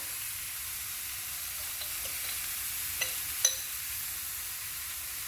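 Szechuan chutney stirred into a hot pan of vegan cashew tofu, giving a steady broad sizzle with a few faint scraping stirs and small clicks near the end, no talking.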